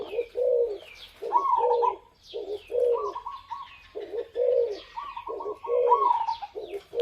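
A decoy dove coos in a steady, evenly paced rhythm of repeated multi-note phrases, close and clear with no pauses or stumbles, alone without talk.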